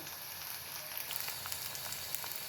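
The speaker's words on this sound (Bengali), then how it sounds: "পেঁয়াজ মরিচ হলুদ একসাথে একটু ভেজে নেব" Onion, chili and turmeric fry in hot oil, giving a steady, faint sizzle with soft crackles close by and no talking.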